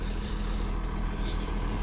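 A bulldozer fitted with laser grading control rumbles steadily at a construction site, a constant low engine drone with no breaks, close and fairly loud.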